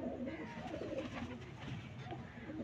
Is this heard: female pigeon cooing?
yes